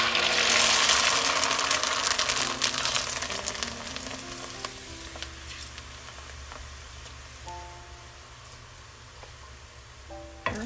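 Dried rice vermicelli hits hot oil and fries with a loud, dense sizzle that starts strong and gradually settles into softer crackling, close up with no talking.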